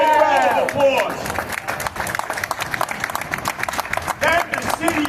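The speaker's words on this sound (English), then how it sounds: "Let's give a great round of applause." An outdoor protest rally crowd in New York applauds and cheers beneath a loud amplified voice speaking, with steady clapping and crowd noise running underneath throughout.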